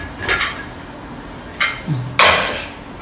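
A pressure cooker lid is opened after spicy chicken has cooked inside, giving a few sharp metallic clanks and scrapes spread over a few seconds, the last one loudest, with no talking.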